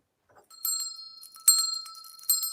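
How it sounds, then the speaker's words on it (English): A hand bell rings in three bursts of bright, sustained metallic tone with lingering overtones, fairly close and loud, with no talk over it. "We gotta ring that bell."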